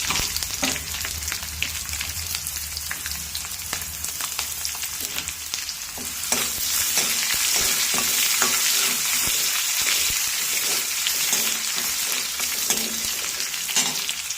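Finely chopped onion and curry leaves sauté in a pan, giving a steady, close crackling sizzle that grows a little louder partway through, with occasional faint stirring scrapes.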